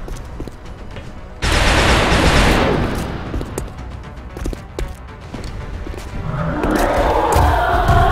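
XCOM: Enemy Unknown squad gunfire aimed at a charging Berserker, a sudden loud fusillade of shots that breaks out, eases into scattered cracks, then swells again into another volley amid rumbling battle noise.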